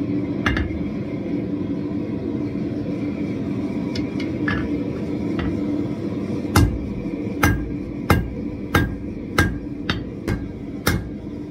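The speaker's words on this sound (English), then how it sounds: "Except I drew my drawing with a hammer." Hand forging a toilet paper holder: a hammer rings on hot metal, at first sparse and faint under a steady background rumble, then a run of about seven loud, evenly spaced strikes near the end.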